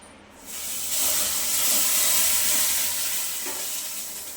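Hot milk poured into roasted semolina in a pan on a low flame for mango sheera, bursting into a loud rushing sizzle and hiss that stays steady and slowly eases off.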